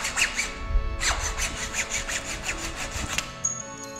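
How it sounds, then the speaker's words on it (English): Carbon handlebars for an Ibis Mojo 4 trail bike being cut down to width with a hand saw, steady back-and-forth strokes rasping close and loud in a workshop, ending in a brief squeak. "critical step, cut the handlebars down"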